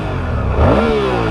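A Suzuki V-Strom 1050 motorcycle accelerates close by, its engine note rising sharply in pitch over a loud, brief revving burst.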